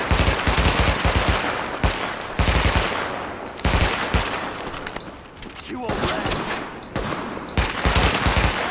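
Gunfire in the video game The Division: loud, repeated automatic bursts and rapid fusillades in several bouts, with someone talking over the shooting.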